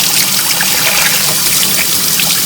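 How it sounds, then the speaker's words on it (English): Water gushes steadily and loudly from a slop sink tap onto an air filter being rinsed, a continuous close splashing rush with no talk. "I'm going to try turning this water on a little bit more aggressive, get a little more water pressure going through there"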